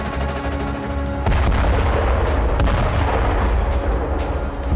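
Heavy rapid cannon fire from a Bradley fighting vehicle's gun, a loud burst of booming shots that starts abruptly and continues as dense, echoing gunfire.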